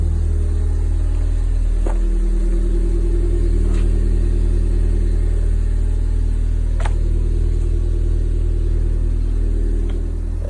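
Steady, close idle drone from a cold Audi TT 2.0 TFSI, 200 hp, running a Milltek exhaust, with a few faint clicks over the constant low rumble.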